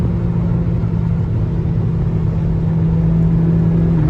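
A VW Golf GTI engine drones steadily as the car drives fast in fourth gear at around 160 km/h, a loud continuous low rumble with a faint rise in pitch near the end, heard from inside the cabin with no talking.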